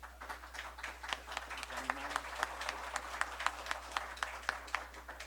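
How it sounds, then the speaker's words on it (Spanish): An audience at a lecture claps in sustained applause, many scattered hand claps at a fairly quiet, distant level, steady throughout with faint voices underneath. "denle un aplauso"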